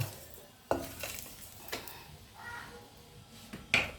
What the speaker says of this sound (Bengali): কড়ার মধ্যে অল্প একটু সাদা তেল দিচ্ছি, কারি কপিগুলোকে অল্প একটু ভেজে নেব।